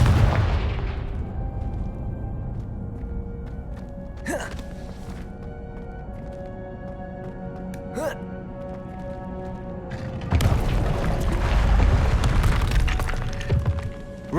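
Confringo spell blasts in Hogwarts Legacy, a few sharp cracking bursts followed by a louder, sustained explosive rumble, over a continuous game soundscape.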